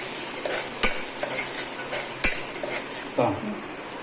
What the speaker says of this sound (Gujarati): પછી એને થોડુંક આપણે તેલમાં ફેરવશું ડુંગળીને, એટલે તેલમાં એકદમ મસ્ત ચડી જાય।